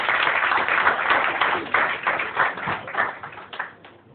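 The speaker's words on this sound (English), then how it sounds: "Can I have a big round of applause here?" Audience applause, a dense burst of many hands clapping together that holds steady and then gradually thins and fades, close and filling the room.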